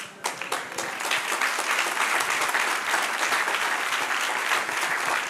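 A church congregation applauds continuously, a dense wash of clapping that holds steady and fairly loud throughout.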